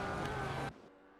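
Race cars in a vintage supercar racing video game make a dense, loud engine roar that cuts off abruptly, leaving only a faint low hum.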